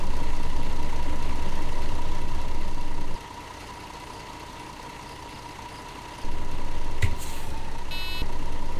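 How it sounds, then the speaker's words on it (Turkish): A MAN Lion's Coach in Fernbus Coach Simulator sounds its door-open warning, a continuous steady beep over the idling engine hum, with the engine rumble dropping away briefly partway through before returning. "Yani kapı açık giderseniz araba ötüyor arkadaşlar"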